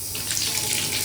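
Water from a tap gushes steadily into a sink under a cabinet during a plumber's leak check, close, loud and continuous with no talk.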